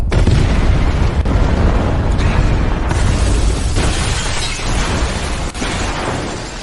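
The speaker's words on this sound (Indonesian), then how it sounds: "Setelah ledakan itu," An explosion in the action film The Protege: a loud, sustained rumbling blast with deep low-end roar and crackling debris filling the whole stretch, with brief dips, and no talk over it.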